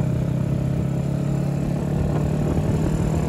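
A Daytona motorcycle engine on a road test ride, run hard with short gear shifts, makes a loud, steady, close-up drone with a rough low rumble throughout.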